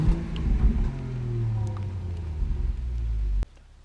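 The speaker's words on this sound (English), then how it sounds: "Who wants to hear the 3-litre turbocharged P400?" A Range Rover's 3-litre turbocharged P400 engine rumbles low and close, swelling in a rev before settling and cutting off sharply near the end.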